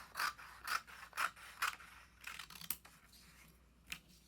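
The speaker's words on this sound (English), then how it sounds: "And now I'm going to cut each piece in half." Scissors snip through a long strip of sculpture paper, giving about six crisp, evenly spaced cuts close by with faint rustling of the paper between them.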